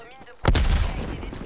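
A frag grenade explodes in Call of Duty Black Ops Cold War, a sudden loud, close boom with a deep rumbling tail that fades over about a second.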